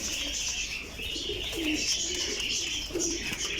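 Pigeons coo in low, soft, repeated phrases against a steady background of higher chirping birds, with the calls close and continuous across the short stretch.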